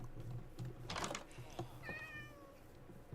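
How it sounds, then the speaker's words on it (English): A black cat meows in the Minecraft video game, a short rising electronic meow cutting in over steady low background hum and faint clicking. "that's the first time I've seen a black cat"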